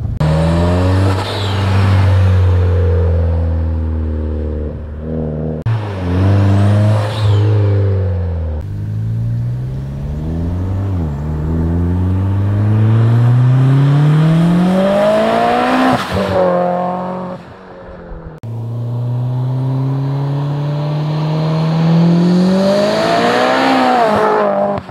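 A 500 WHP Mitsubishi Evo X Ralliart tuned car roars through repeated hard acceleration pulls and gear changes, pitch sweeping upward then dropping at each shift, loud and close with brief breaks between bursts as it does a flyby.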